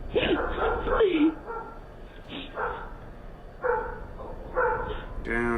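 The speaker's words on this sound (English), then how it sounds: "dogs barking." Dogs bark in short, sharp bursts caught on a doorbell camera, several separate barks spaced out over a few seconds with a yelping, slightly whimpering quality.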